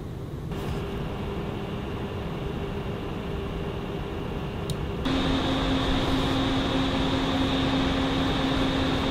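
Fan noise from an ID Cooling SE-225-XT CPU cooler running on a Ryzen 7 system, a steady airy whoosh with a faint tonal hum that steps up in pitch and loudness partway through as the fan speeds up.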